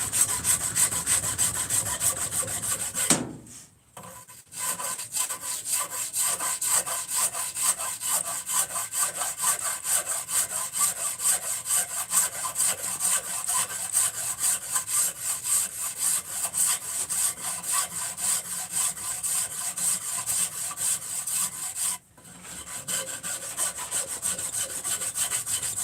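A rasp scrapes the wooden bowl of a hand-carved spoon, taking out gouges in long, steady, rhythmic strokes close up, with two brief pauses, no voices over it.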